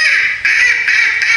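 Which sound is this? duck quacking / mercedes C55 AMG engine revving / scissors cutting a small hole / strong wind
duck quacking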